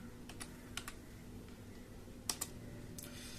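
Quiet keystrokes on a computer keyboard come in small clusters of clicks with pauses between, entering commands in the Windows recovery command prompt.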